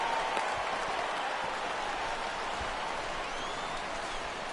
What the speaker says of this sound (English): This crowd oohs and ahs every time this guy hits a fly ball.